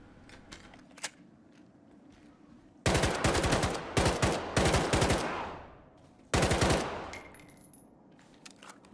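Automatic gunfire from a weapon in S.T.A.L.K.E.R. 2, two loud sustained bursts of rapid shots, the first lasting several seconds, then a pause, then a shorter burst, with quieter ambient noise between.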